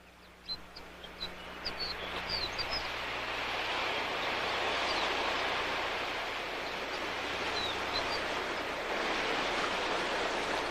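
Bitter, salty waves washing onto the receding Dead Sea shore in Israel, a steady broad roar of surf that rises and holds for several seconds, with faint chirps above it.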